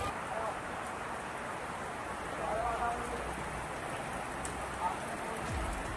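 Heavy monsoon rain pours down in a dense, even hiss of drops on surfaces, steady throughout with slight swells in intensity and no clear talk over it.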